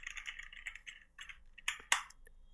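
Typing on a computer keyboard nearby, a quick run of light clicking keystrokes with short pauses and a couple of sharper louder key hits near the end, no voice over it.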